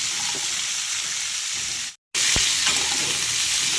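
Vegetables with slit green chillies fry and get stirred in a pan for a spinach-and-prawn dish, giving a steady close sizzle with a brief silent break and a scrape of the spatula after it.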